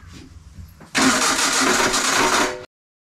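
The starter motor of a Renault 11 Turbo cranks in one loud, close, grinding burst of almost two seconds, after faint clicks, then cuts off abruptly.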